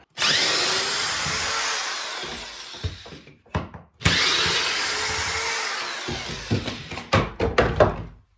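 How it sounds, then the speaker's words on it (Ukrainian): A power drill or screwdriver unscrews shelves in two sustained whirring runs, each followed by short bursts, clicks and wooden knocks as the shelf hardware is handled, close and fairly loud. "відкручую полочки"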